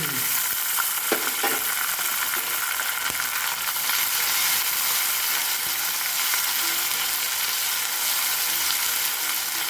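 Ginger-garlic paste fries in hot oil, a loud, dense, continuous sizzle with a few faint clicks and stirring taps early on, close by and without speech.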